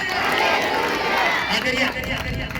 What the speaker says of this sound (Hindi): अगर आया तो जोरदार तालियां बजाएंगे